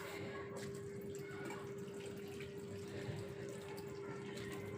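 Water runs steadily into a pot from a small metal water vessel, a constant splashing flow with a faint steady hum underneath, fairly quiet throughout.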